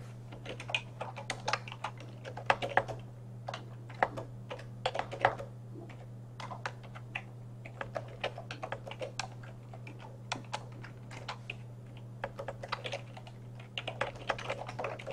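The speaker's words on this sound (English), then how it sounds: "So if I go in a very simple notepad and I write something like" Steady, brisk typing on a computer keyboard for a simple Notepad document, with close, light key clicks in uneven bursts over a low background hum and no speech.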